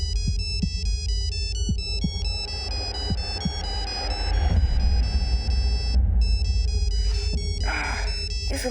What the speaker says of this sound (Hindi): सुबह सुबह किसका फोन है?